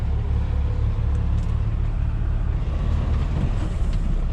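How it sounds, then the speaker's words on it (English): Heavy semi truck engine idling low while reversing, a steady deep diesel rumble close by with no voices. "This is the first time I've backed up with this truck"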